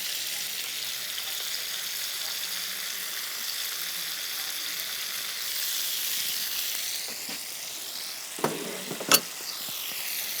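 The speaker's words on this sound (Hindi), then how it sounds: "यहाँ पे हमारी चिकन फ्राई हो रही है" Chicken frying in a pan, a steady soft sizzle with faint spatter throughout, then a couple of sharp clinks near the end.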